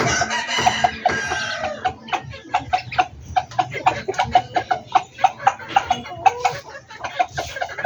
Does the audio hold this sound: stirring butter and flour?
no